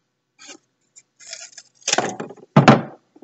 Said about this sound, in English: So I'm going to cut a wall.